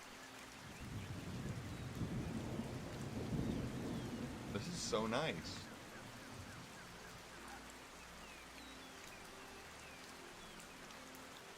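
Rain and rumbling thunder in the video game Golden Lap, a steady wash of rain with a loud thunder roll in the middle; a person speaks briefly over it.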